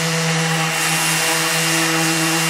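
A DWT EX-125 eccentric sander runs continuously while sanding, giving a loud, steady motor hum with a constant buzzing drone and no pauses.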